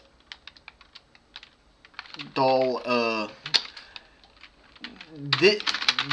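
Computer keyboard keys tapped in quick irregular bursts while entering commands in a Linux terminal, close and crisp, with a person talking over part of the typing.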